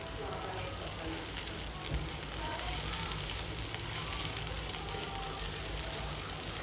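A vegetable stuffing fries in a pan with pepper and chili powder added, making a dense, steady, close sizzle that runs continuously without pause.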